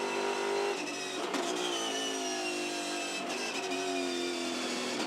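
V8 Supercars racing at the Auckland 500, several engines howling at high revs with overlapping rising and falling pitches as cars pass, a continuous loud race-track drone.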